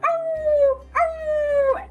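A storyteller's voice imitates a puppy's whimper, two drawn-out, falling whines in a row, close and clear with no other talk.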